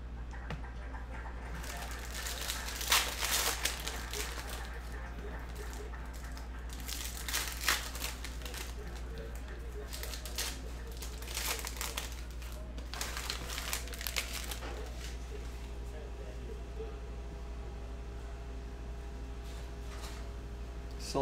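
A cellophane wrapper on a pack of Panini Prizm basketball cards is crinkled and torn open close by, giving repeated bursts of plastic rustling over a steady low hum, with occasional faint talk.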